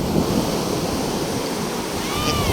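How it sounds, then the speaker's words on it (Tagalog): A strong wind blows hard beside the sea at a resort cove, a loud continuous roaring rush of gusts and breaking waves with no speech. "Ayan, malakas pa rin ang hangin."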